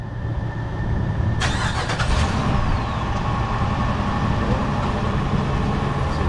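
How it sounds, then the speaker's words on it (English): A 2012 Dodge Durango with a popping rear CV axle starts up partway through, its engine catching with a sudden burst and then settling into a steady running hum and drone. No one speaks. "Go ahead and start the car and do it."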